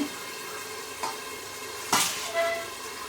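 Fenugreek leaf vegetables simmer and sizzle steadily in a pan with half a glass of water added, a few scraping stirs of a utensil breaking through the constant bubbling hiss.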